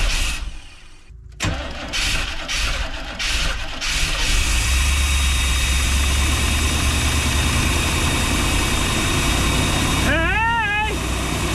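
Big block engine in an old, long-forgotten van idling loudly and steadily, with a sputtering start before the rough, continuous rumble settles; a person speaks briefly over it near the end.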